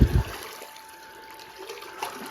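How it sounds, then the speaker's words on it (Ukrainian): Water draining from a backyard pool whose water has turned dirty, a steady, soft rushing flow with a brief louder burst at the start, heard alone at moderate distance. "басейн уже спускаємо"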